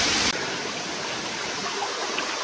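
A waterfall on a shaded forest trek at Ahobilam in the Nallamala hills roars as a steady, dense rush of falling water, close and continuous, with a brief louder burst at the very start.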